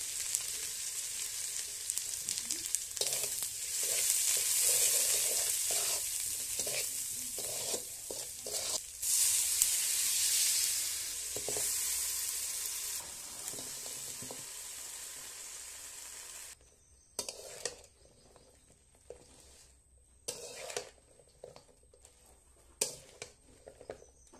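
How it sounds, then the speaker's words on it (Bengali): Leafy greens cooking in a pot over an open fire outdoors, a soft steady sizzle and bubbling with crackles that drops away after the midpoint, leaving faint sporadic ticks and pops. "আগুন জ্বলছে, লতাপাতার রান্না ফুটছে"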